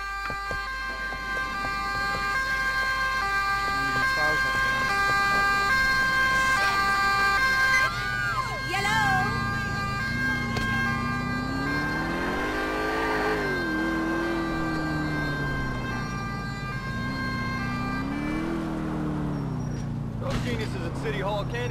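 An ambulance siren wails in the video game GTA IV, starting with a steady tone and then switching to a rising and falling wail that stays loud over a vehicle hum, with talking mixed in.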